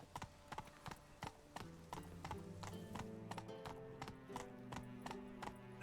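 Roach, Geralt's horse in The Witcher 3, clip-clops in a clear, even series of hoof strikes, close and distinct, over soft game music, with a snort or whinny near the end.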